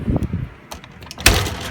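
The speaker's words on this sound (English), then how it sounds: "I'm gonna shut the door." A door is pushed shut on a cold, windy morning after a storm, at Rocky Gap State Park, ending in one solid close-up thud after scattered quieter handling noises.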